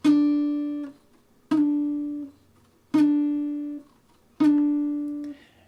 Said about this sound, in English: you get this slurred sort of hint at a slide